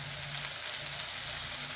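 Yogurt paste spiced with turmeric, chilli powder, coriander and cumin hits a hot pan, giving a steady, dense sizzle with no pauses, close and moderately loud.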